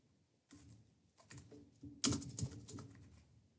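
Soft keystrokes on a computer keyboard, a few scattered taps and then a quicker burst of clicks, faint and close with no talking.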